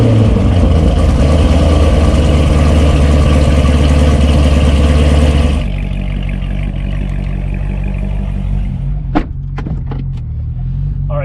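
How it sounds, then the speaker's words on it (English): A Corvette Z06 engine rumbles loudly and steadily at idle with its exhaust valve open, then drops to a lower, quieter drone, with a few sharp clicks near the end. "This is how to make your exhaust sound cool in 20 seconds."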